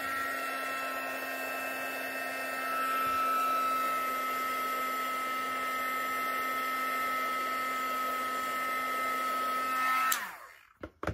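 A heat embossing tool blows hot air onto embossing powder with a steady, loud whirring hiss. It runs for about ten seconds, then switches off and spins down abruptly.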